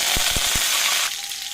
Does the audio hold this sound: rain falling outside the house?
no